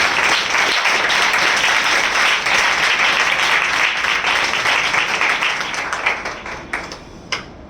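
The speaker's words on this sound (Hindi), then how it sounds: "हम जोरदार ताली से उनका स्वागत करें" Church congregation gives a warm welcome with loud, sustained applause that thins toward the end into a few scattered, distinct claps.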